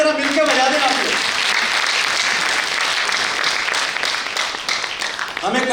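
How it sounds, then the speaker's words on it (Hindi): Audience at a Hindi poetry gathering (kavi sammelan) in New Delhi claps together in a loud, dense burst, with a voice briefly over the start and again as the applause fades near the end. "एक बार तालियां वाले जरा मिलकर बजा देना आप लोग।"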